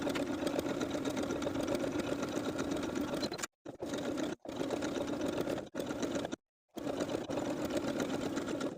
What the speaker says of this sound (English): Sew both of those crotch seams with a 5/8 inch seam allowance and a stretch stitch.